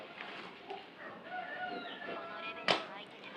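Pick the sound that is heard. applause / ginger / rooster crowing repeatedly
rooster crowing repeatedly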